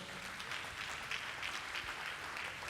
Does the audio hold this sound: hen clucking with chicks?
no